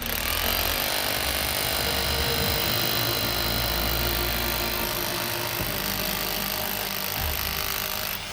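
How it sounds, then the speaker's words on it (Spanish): A 2200 watt demolition hammer runs off a homemade solar panel, a fast, rattling hammering that carries on steadily at close range for several seconds before easing off near the end. "Ahora vamos a poner en marcha este martillo demoledor de 2200 vatios."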